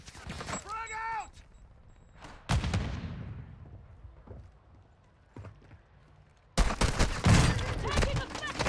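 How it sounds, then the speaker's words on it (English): Frag grenade and gunfire in the video game Call of Duty Warzone 2 Resurgence: loud bursts of rapid gunfire at the start and again at the end, with a heavy boom and quieter shots and movement in between, and no speech heard. "Frag out!"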